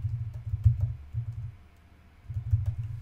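Typing on a computer keyboard: two quick bursts of soft, muffled key taps with a short pause between, close and fairly quiet.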